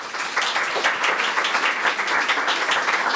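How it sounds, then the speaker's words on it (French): A studio audience claps steadily for four guests on a French talk show about restaurants and food, a dense continuous patter of many hands at even loudness throughout. "je vous demande de les applaudir"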